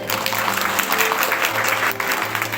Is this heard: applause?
yes